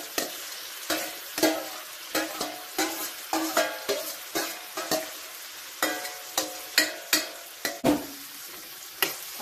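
Salt fish and vegetables cooking together in a pan, with a steady sizzle broken by repeated sharp scrapes and clacks of a spoon stirring, close and fairly loud throughout, no voices.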